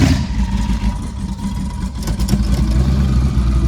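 A 1000-plus horsepower twin-turbo car engine revving in short, throaty bursts over a rough running note, loud and close throughout.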